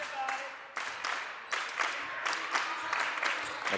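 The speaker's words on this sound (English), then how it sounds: "The Clipper clap has started here from the Clipper faithful." Crowd at a girls' high school basketball game breaks into rhythmic unison clapping in a gym, repeated bursts of claps building over a few seconds, fairly close and lively.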